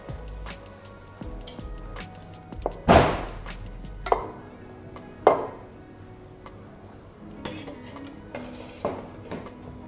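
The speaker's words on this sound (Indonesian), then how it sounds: "Lalu jika sudah tercampur semua, kita masukin kenarinya." Walnuts, 100 grams, are mixed a little at a time into klappertaart batter, giving soft scraping and clinking of a utensil against a bowl, with a few sharper knocks and thunks, close and without talk.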